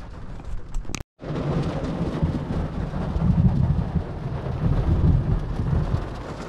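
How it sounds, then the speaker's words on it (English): Heavy rolling thunder during a rainstorm, a loud sustained rumble with rain noise that swells and fades after a brief cut near the start, with no talking. "It is lightning and thunder every 15 seconds."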